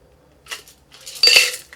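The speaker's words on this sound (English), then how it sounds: "let's pour the contents of our shaker over ice" A brief clink of ice and glass, then a short splashy rattle as a cocktail and ice tumble from a shaker into a glass, close up with no talking.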